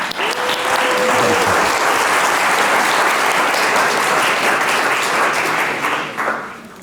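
An audience gives steady, dense applause as Ray Russell, founder of Fresh Slice Pizza, is welcomed onstage at an entrepreneurship talk. The clapping is close and loud, fills the room for several seconds, and then tapers off at the end.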